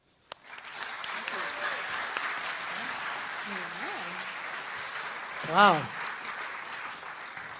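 Audience applause welcoming lecturer Fred Kaplan at Iowa State University: steady, full-room clapping that lasts throughout, with a brief exclamation from one voice partway through.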